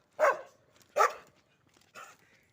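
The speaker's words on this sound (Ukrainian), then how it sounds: "От вони, до речі, гавкають зараз з тої сторони." Dogs in a yard give three sharp barks, the first two loud and close together and the third somewhat weaker, each separated by a short silence.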